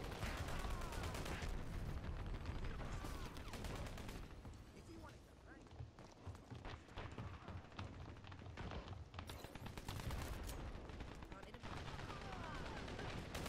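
Rapid gunfire in the online shooter Dirty Bomb, dense bursts of automatic shots crackling almost nonstop, loud and close throughout, with someone talking in Italian under the shooting.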